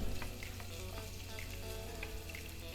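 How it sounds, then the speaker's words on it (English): Finely chopped garlic, green chilies and spring onion whites sauté in sesame oil in a heavy-bottomed pan, giving a soft, steady sizzle with occasional light stirring taps. "Heat 2 tablespoons sesame oil in a heavy bottomed pan. Add finely chopped garlic, green chilies and spring onion whites. Saute for 2 minutes."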